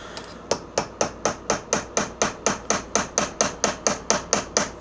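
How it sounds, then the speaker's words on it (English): Steady metal-on-metal strikes of a hammer driving a screwdriver or small chisel against a John Deere LA125 mower deck bearing, about seventeen sharp evenly spaced taps, close and loud, no voices. "just tap a little screwdriver or a small chisel just to get that bearing worked out of its spot"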